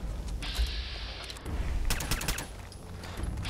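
Deliverer pistol fire in Fallout 4: a burst of several rapid, fairly close shots ringing over the game's low ambient hum, with a quieter mechanical stretch before it.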